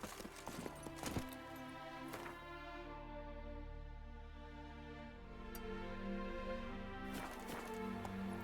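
Horse hooves clip-clop in The Witcher 3 Wild Hunt, with clusters of close, crisp hoofbeats at the start and end over a sustained musical drone.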